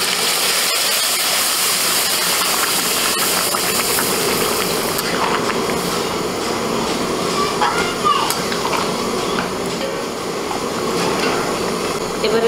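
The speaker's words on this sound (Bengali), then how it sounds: "এবার আমি ডাল আর ফুলকপি তুলে দিচ্ছি।" Lentils and cauliflower hit a pan of spiced, fried fish heads, setting off a steady steamy sizzle and hiss that runs throughout, while a person talks over the cooking.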